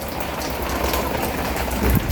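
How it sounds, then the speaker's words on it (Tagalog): Steady rain falls after a typhoon, a dense continuous patter close by with no voices, rising slightly near the end. "umuulan na naman"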